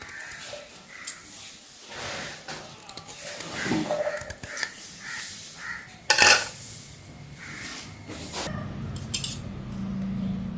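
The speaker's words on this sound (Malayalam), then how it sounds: "എല്ലാ കുരുവും ഞാൻ കട്ട് ചെയ്തെടുത്തിട്ടുണ്ട്" Seeds being cut out with a knife or scissors make soft, scattered scraping and snipping sounds, with one sharper clink near the middle, heard close and fairly quiet with no talking.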